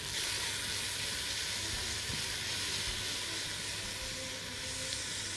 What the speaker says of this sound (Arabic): اقلب البصل مع الزيت والمستكة والحبهان